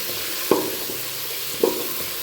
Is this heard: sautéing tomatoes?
yes